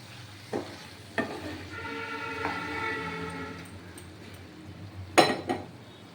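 Tomato stir-fried for soybean korma sizzles softly in the pan while a spatula scrapes and clinks against the metal in a few sharp knocks, with a louder clatter near the end.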